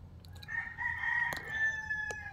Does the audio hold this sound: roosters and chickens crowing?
yes